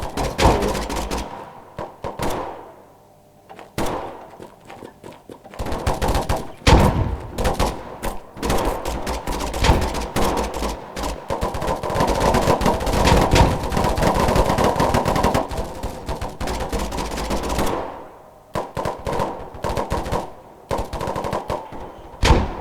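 Shooter video game gunfire, loud and close, with sustained machine-gun bursts and rapid volleys through most of the stretch and short pauses between them.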